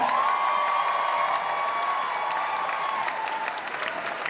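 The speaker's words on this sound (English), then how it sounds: "please give her a round of applause for that" An audience at a furry convention dance competition claps and cheers for a tap-dancing fursuiter, a loud, sustained round of applause with scattered whoops while a faint sustained tone lingers.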